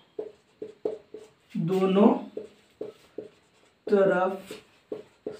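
Marker or chalk tapping and scratching out a physics equation on a board, short rhythmic strokes close by, interrupted twice by a man's speech.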